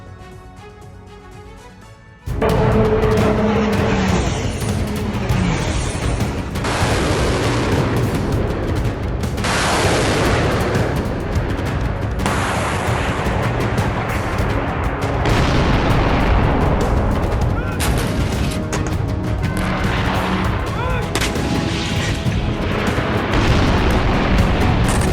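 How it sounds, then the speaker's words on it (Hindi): Loud, continuous rumbling blasts and booms of missiles and tanks in the Russia-Ukraine war fill the air after a brief quieter start, a dense roar of explosions with no pauses. "मिसाइलों और टैंकों के धमाके के शोर में एक और दिन बीता।"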